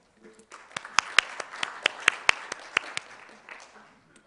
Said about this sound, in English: Please welcome Mr. Luca Taschini with a big round of applause.